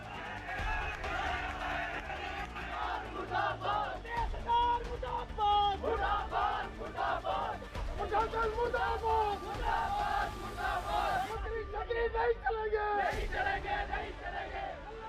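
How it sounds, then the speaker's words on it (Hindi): An angry crowd chants slogans outside the Kihar police station in Chamba, loud rhythmic shouted voices rising and falling together with a dense hubbub of raised voices throughout. "चंबा के कीहोर थाने के बाहर भीड़ ने नारेबाजी शुरू कर दी"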